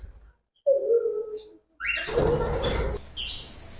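Pet conures and cockatiels in a bird shop give a few short calls, first a brief coo-like note, then a harsher squawk and a high chirp, close and fairly loud.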